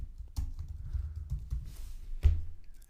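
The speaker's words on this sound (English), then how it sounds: "I'm going to type a name for the new client" Keystrokes on a computer keyboard while entering a client name, a few soft, irregular taps and thumps spaced across a few seconds, close but quiet, with no talk.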